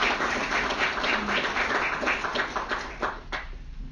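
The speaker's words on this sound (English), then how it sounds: "let's give them a round of applause" Audience applause at a credit union annual meeting, a sustained wash of clapping that carries on steadily for several seconds before thinning and tailing off near the end.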